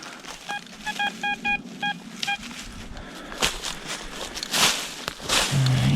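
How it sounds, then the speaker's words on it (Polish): An outdoor metal detector gives a run of short, evenly spaced electronic beeps, then footsteps and rustling take over as the detector is handled under an overcast sky. "Jest jakiś sygnałek."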